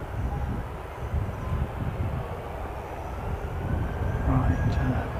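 Jetstar airliner on its takeoff run, a low rumbling engine drone that swells toward the end amid wind noise, with faint talk nearby.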